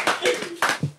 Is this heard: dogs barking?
no